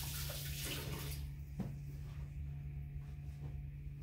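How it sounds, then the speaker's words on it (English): Hands rinsed under a running kitchen tap while making banana fritters, a quiet, steady wash of flowing water at the start that fades to faint drips and small kitchen sounds. "Let me just rinse off my hands"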